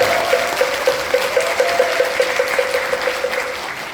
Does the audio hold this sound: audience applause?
yes